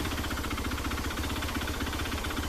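A car engine idles while it warms up, giving a steady, close, unbroken rumble with an even low throb and no change in pitch, with no voices over it.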